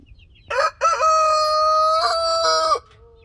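A rooster crows loudly and close by in a garden where chickens roam. A short opening note leads into one long, drawn-out crow, with no talking.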